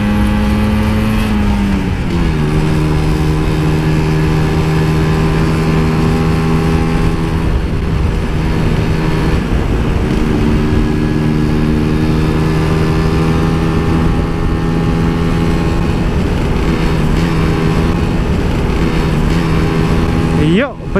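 A Vespa scooter engine runs loud and close, its tone dropping early and then holding a steady rumbling idle with some throttle changes, while people talk over it.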